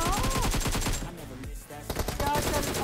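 Rapid bursts of automatic gunfire in the mobile shooter BGMI, loud and close, with a brief pause midway before the firing resumes.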